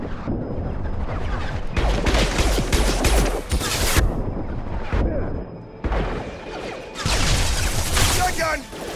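Gunfire in the Mass Effect 2 video game comes in dense bursts of rapid shots and impacts, loud and close, stopping briefly and then resuming, with combat voices shouting between them.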